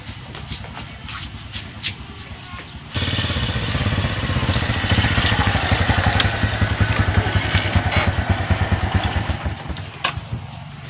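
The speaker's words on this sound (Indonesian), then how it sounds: "Macam bunyi motor PDAM lagi kan?" A motorcycle engine rumbles nearby, idling with a fast putter, then revving louder and staying steady and close throughout.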